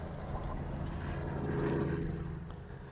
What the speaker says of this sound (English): That is the loudest plane I've ever heard in my entire life